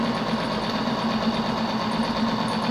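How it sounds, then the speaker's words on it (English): An electric motor on an oil test rig, run with special lubricating oil, hums steadily and evenly at close range with a constant mechanical whine and no talking. "now we will start the motor again"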